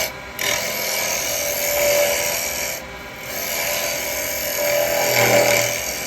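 A carbide woodturning tool shearing wood on a lathe gives a steady, close rasping scrape with brief pauses between passes, running alone without talk.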